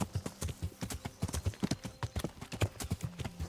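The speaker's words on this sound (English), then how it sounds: "God, the horse hoof sounds on the terrain are just amazing." Hoofbeats of a horse crossing terrain in Kingdom Come: Deliverance, a quick, regular clip-clop rhythm, close and clear, with no voices.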